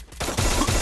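Rapid gunfire from the battle royale game Free Fire bursts out loud and close, a dense burst of shots lasting under a second with no talking.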